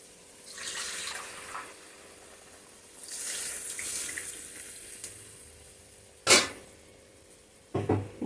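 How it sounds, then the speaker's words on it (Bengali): Water is poured into a cooking pot for rice and masoor lentil fritters, a soft rushing splash lasting several seconds, followed by a couple of sharp, clanking knocks near the end. "আর একটু জল দেবো, নাহলে ডালের বড়াগুলি সিদ্ধ হবে না।"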